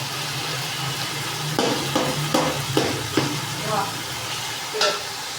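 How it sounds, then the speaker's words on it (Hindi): Spices roast and get stirred in a pan, a steady low sizzle broken by a run of scraping stir strokes in the middle and a later clink, close and moderately loud. "अच्छी तरह मसाला भून लेंगे।"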